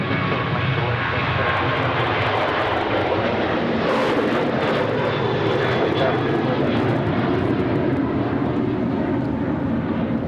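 A heavy jet airliner departs Sydney Airport, a loud, continuous broadband roar of jet engines that swells steadily and holds throughout, with faint voices underneath.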